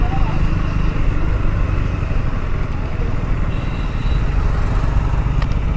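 A KTM Duke motorcycle engine runs steadily on a city street at night in Guwahati, a continuous loud rumble with traffic noise around it.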